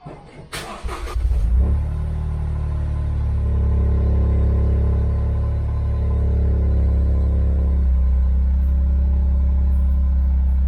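A Toyota GR Corolla starts with a brief rattle and crank, then its engine settles into a loud, steady low drone from inside the car, with no talking.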